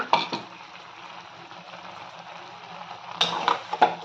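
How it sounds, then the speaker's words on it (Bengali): A spoon stirs mustard paste and water through potatoes and stalks in a cooking pan, with a steady low sizzle and a few sharp scrapes and knocks at the start and again near the end. "সরষ দিয়ে একটু জল দিয়ে আবার নাড়াচাড়া করে সিদ্ধ অবধি"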